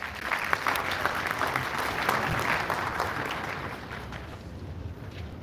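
An audience at a hotel reception applauds in a steady, dense round of clapping that carries on evenly throughout, with no voices over it.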